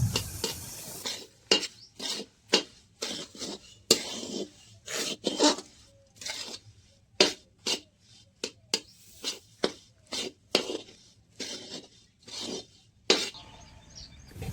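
A rajgira (amaranth) laddu mixture is stirred and scraped in a pan, a close series of about twenty distinct rasping strokes at an uneven rhythm, with quiet pauses between them and no talk.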